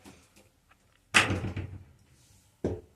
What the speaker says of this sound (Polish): Drzwi mi wariują tutaj w kojowniku.